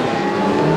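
Touring cars from the Baltic Touring Car Championship at Parnu idle and rev together on the grid before a race, a loud, dense, steady engine drone with layered harmonics.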